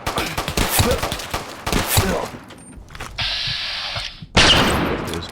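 Rapid bursts of gunfire in Fallout New Vegas, several loud shots cracking in quick succession over ambient game noise, with a sustained hiss and a louder blast near the end.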